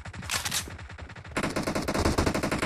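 Rapid automatic gunfire in Battlegrounds Mobile India, a short burst followed by a denser, louder stream of shots, close and without talk.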